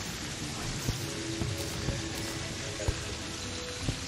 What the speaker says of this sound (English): it's raining though, so it probably puts out the fire